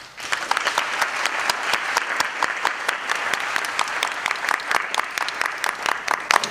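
An audience claps at a Rangapravesam dance recital, giving steady, dense applause from many hands that holds evenly throughout and ends on a few scattered claps.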